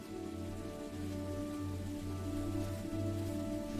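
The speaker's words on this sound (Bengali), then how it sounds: "একদিন যখন বনে প্রচণ্ড বৃষ্টি শুরু হলো" Heavy rain pouring down in a forest, a steady dense hiss of falling water that stays constant throughout, with no voices.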